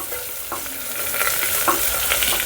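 Chopped onions frying in hot oil in a pan while cooking dal khichdi, a constant sizzle with a few sharp scrapes and clicks of a spoon stirring through, close up and with no voices.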